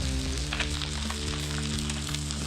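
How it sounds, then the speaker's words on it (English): Salmon fillet frying in oil in a pan after being flipped, a steady close sizzle with faint crackles running continuously under a low hum, no talking. "We're gonna let this cook for about 4 minutes until the salmon cooks all the way through."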